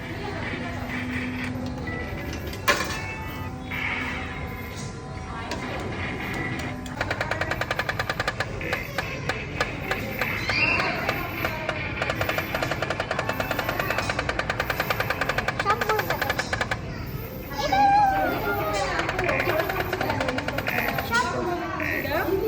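Toy guns in a children's arcade shooting game fire rapid, rattling electronic bursts of gunfire over jingly game sounds in a busy play area, with children and adults talking throughout.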